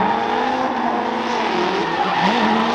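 A drift car pushed through the zones of a drift battle, tires squealing in a long, continuous, loud skid with the engine wailing and pitch shifting throughout.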